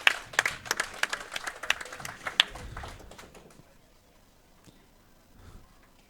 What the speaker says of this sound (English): Ardsley is being applauded for their efforts.